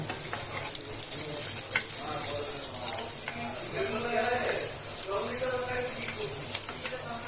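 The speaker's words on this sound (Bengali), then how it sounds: "পেঁয়াজটা একটু ভেজে নিব, ব্রাউন কালার করে ভেজে নিব।" Onions frying in a kadai with bay leaves and cardamom for a spicy Bengali chicken curry, a steady close sizzle with stirring scrapes throughout.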